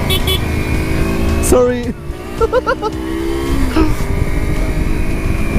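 A heavily loaded 250cc motorcycle on a road trip across Indonesia from Bali to Komodo drones with a low, labouring engine note under close voices talking.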